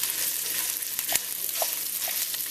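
Sausage frying on an El Fuego pellet grill outdoors, a steady broadband sizzle with a few soft pops and crackles throughout.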